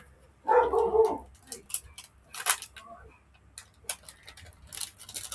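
A dog gives a short burst of barks up front, followed by scattered clicks and faint background noises.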